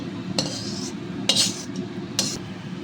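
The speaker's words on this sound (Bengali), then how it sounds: "এটাকে আমি একটা পাত্রে ঢেলে নিচ্ছি" Cooked fig curry (dumur dalna) scooped with a spoon into a serving bowl: three short metallic scrapes and clinks of utensil against dish, close and fairly quiet over a steady low kitchen hum, with no talk.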